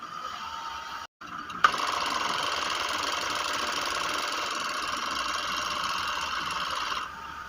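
An overlock sewing machine running on a single layer of fabric, starting after a short pause into a steady, even mechanical whir that holds close and constant for several seconds before stopping.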